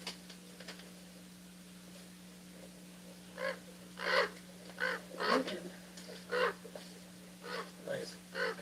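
Several raven caws ring out in an outdoor fairy garden at sunset, coming as short spaced calls in an irregular series of bursts over a steady low hum. Faint background speech is present.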